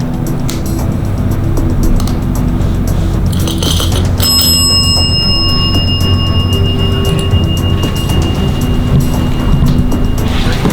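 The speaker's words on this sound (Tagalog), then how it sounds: "they're trying to play with the bell" A bright bell rings with a sustained, ringing tone over constant rumbling road or engine noise, with a few sharp clinks before it, inside an old hotel in the Philippines.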